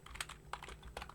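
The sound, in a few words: typing text on a computer keyboard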